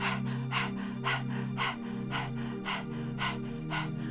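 Rapid, rhythmic forceful exhalations through the nose during Kundalini yoga Breath of Fire practice, about two per second, close up over a low steady hum.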